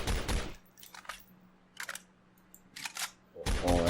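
Bursts of WW2-era gunfire from a Unity game weapons pack, several sharp rapid shots in clusters separated by brief pauses, with a person talking in between.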